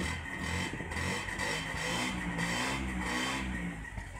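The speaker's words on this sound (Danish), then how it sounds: "Jeg kan lige prøve at gasse lidt op for jer, så I kan få måske en fornemmelse af, at den har sådan en lidt sjov knallert lyd." A small car engine with a moped-like sound revs continuously nearby, a steady buzzing drone that rises and swells in waves without pause.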